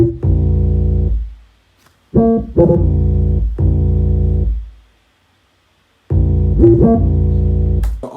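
Booming 808 bass pattern from the final eight bars of a verse in a hip-hop beat, playing long sustained low notes in separate phrases with clear gaps between them, loud, with no other sounds.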